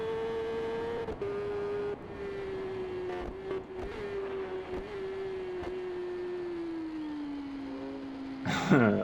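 A Yamaha R6 sport motorcycle cruises along after a small wheelie, its engine a steady, sustained drone that slowly drops in pitch, with a louder burst of wind or engine noise right at the end.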